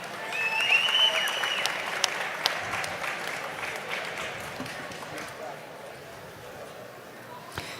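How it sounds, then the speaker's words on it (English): Audience applause breaks out in a jiu-jitsu tournament venue, loudest at the start and tapering off gradually, with scattered louder claps and a murmur of crowd voices throughout. "And a round of applause to her opponent"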